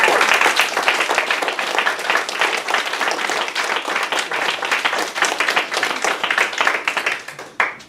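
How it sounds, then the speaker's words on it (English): Audience at a Black Lives Matter gathering in Seaside applauds wildly, a dense steady wash of many hands clapping for nearly eight seconds before thinning out at the end. "I want everyone to applaud wildly"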